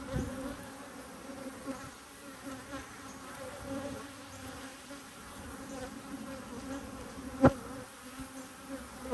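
Honey bees buzz at an opened hive while it is being split using queen excluders, a steady, moderate drone of many wings that goes on throughout, with one sharp knock near the end.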